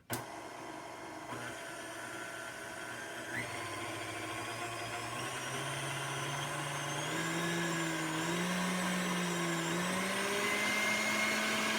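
A KitchenAid stand mixer whirs steadily, its hum stepping up in pitch several times as the speed increases, with no talking.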